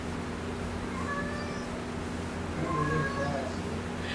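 A mother cat meows for her kittens indoors, with repeated plaintive cries standing out over a steady background hum, moderately close.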